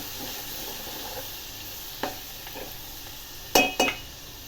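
Garlic and curry leaves frying in a pan for a green chilli sabji, a low steady sizzle broken by a few light clinks of a spoon against the pan near the end.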